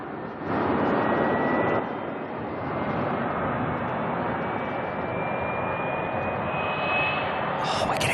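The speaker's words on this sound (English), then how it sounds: "we're getting spool ups" Aircraft jet engines spooling up at Auckland Airport, a rising broadband roar that swells after a brief quiet start and holds steady with a faint climbing whine, fairly distant, with no talking.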